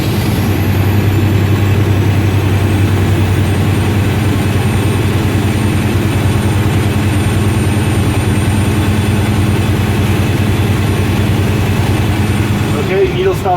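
A truck engine idles steadily and loudly, a constant low diesel rumble with a faint hiss as air brake pressure builds, unbroken throughout.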